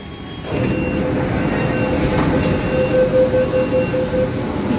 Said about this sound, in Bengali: এখন কিন্তু মেট্রো স্টেশনে দাঁড়িয়ে রয়েছি